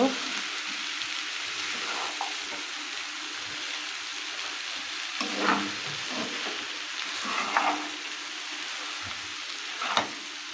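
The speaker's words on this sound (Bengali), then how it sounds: "লাউগুলো দিয়ে নেড়ে চেড়ে মশলার সাথে মিশিয়ে নেব" Round-cut bottle gourd pieces stirred in a pan of spices, soft continuous sizzling with occasional scraping stir strokes, moderate and close, no talking.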